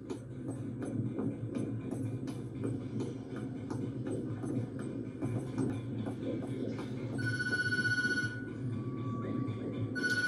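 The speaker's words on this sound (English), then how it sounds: "Sorry guys, but I'm not gonna answer the phone." A telephone rings indoors in a dark, quiet setting, with two bursts of bright electronic trilling near the end over a low, steady rumble.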